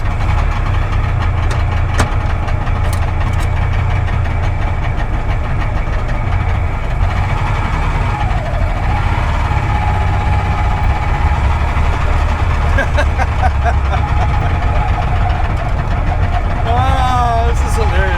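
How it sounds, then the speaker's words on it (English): A Goggomobil Dart microcar drones along on the road with a steady, buzzing small-engine rumble that stays close and constant throughout, with faint cabin noise. "Here's some footage of both myself and Dennis driving the Goggomobil Dart"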